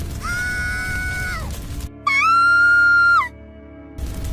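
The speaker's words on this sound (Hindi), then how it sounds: "तभी जंगल की ओर से एक तीखी चीख गूंजी।" A sharp scream echoes from a forest, heard as two drawn-out, piercing, shrill cries separated by a short silence, loud and ringing, with no voices.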